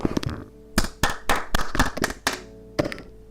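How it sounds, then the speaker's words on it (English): Hands clap sharply in an irregular rhythm, about a dozen close, loud claps in quick bursts with short pauses, alone without talk, while someone plays an instrument at the same time. "the reason I'm able to clap and play at the same time is because I played in the past"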